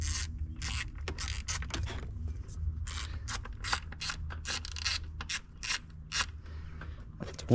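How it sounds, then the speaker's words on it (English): Bolts are ratcheted back in on a 2017 Subaru WRX STI bypass valve, giving a close, steady run of quick ratchet clicks and light metallic rubbing over a low hum. "I get the bolts put back in."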